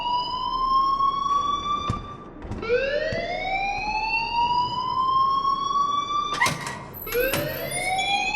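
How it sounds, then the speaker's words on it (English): School fire alarm in the video game Life Is Strange, a loud electronic wail sweeping upward over and over, each rise restarting in quick succession, with no voices. "please turn off that alarm since that's your job"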